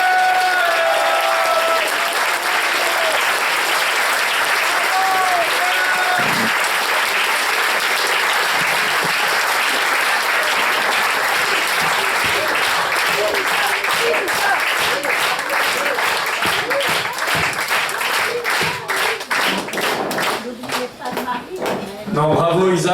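Audience at a French political evening event bursts into a long, loud, sustained round of applause for Isa, dense clapping filling the room with a few cheers mixed in, fading slightly toward the end.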